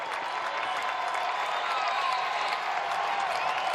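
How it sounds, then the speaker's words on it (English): Baseball home crowd at a 2019 NCAA Tournament game between Illinois State and Louisville, cheering and applauding as Louisville puts a runner in scoring position; a steady, dense roar from a large stadium audience with no talk over it. "And now the crowd getting riled up as Louisville has a runner in scoring position."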